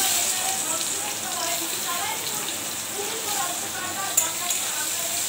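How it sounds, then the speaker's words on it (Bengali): Onions fry in hot oil with cumin and a chili, giving a constant, dense sizzling hiss at close range with a single sharp pop near the end. "পেঁয়াজটা লাল লাল করে ভেজে নেব।"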